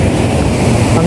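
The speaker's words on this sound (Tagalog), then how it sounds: "Grabe. Laka ng alon." Strong ocean surf at a surfing beach in Baler, Aurora roars as a loud, continuous rush of breaking waves close by, with wind buffeting the microphone and no clear talk over it.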